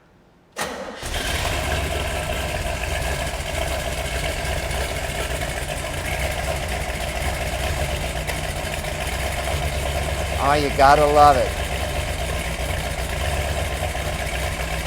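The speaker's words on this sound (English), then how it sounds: "That idle is right between about 700 and 800 RPM on here." A Corvette V8 fires up with a sharp start, then settles into a steady, rumbling idle around 700 to 800 RPM, close and loud throughout, with a brief excited voice partway through.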